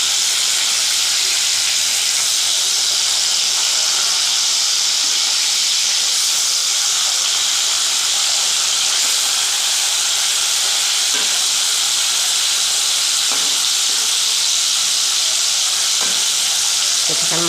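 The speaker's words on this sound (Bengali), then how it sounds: "এখানে মাছটা ভাজা হোক" Rui fish pieces, rubbed with salt and turmeric, frying in hot oil, giving a steady, close sizzling hiss throughout with no talk.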